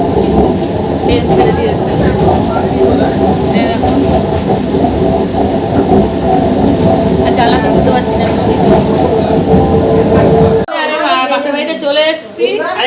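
A train rumbles along on a stormy day during Cyclone Remal, with a dense, loud, steady roar and low mechanical drone. Voices talk over it, and the sound shifts abruptly near the end.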